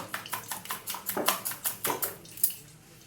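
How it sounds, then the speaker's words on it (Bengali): Gram flour (besan) batter is beaten in a bowl for pakoras, giving a quick, regular run of wet slapping strokes, close and fairly quiet, about a dozen in three seconds. "আমি যেন একটু ভালো করে ফেটে নিচ্ছি, তেলটা গরম হতে থেকে"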